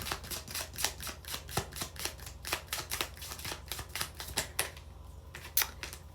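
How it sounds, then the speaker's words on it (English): Tarot cards riffled and shuffled in quick crisp bursts of rapid clicks, close by and fairly quiet, with a brief lull near the end. "Okay, let's do one more shuffle."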